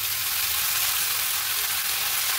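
Garlic frying in a pan, a dense, steady sizzle filling the whole stretch, close and loud with no talk over it.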